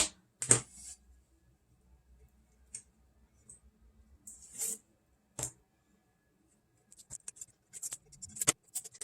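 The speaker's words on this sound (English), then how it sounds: "We're going to pull the tape off." Tape is peeled off a freshly sublimated skinny tumbler just out of a mug press, giving sparse, faint crackling rips and small clicks in short bursts separated by near silence.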